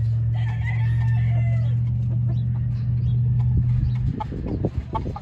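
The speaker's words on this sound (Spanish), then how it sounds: "Aquí ven sus gallitos hatch, también hay." Hatch gamecock roosters on a farm crowing close by, a long steady crow followed by several clucks and rustling, with a low engine-like hum underneath.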